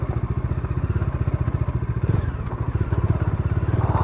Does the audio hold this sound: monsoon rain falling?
no